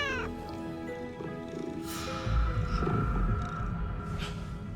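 A cat lets out a drawn, wavering meow up close, followed by rustling and a low thump, clear and alone without talk.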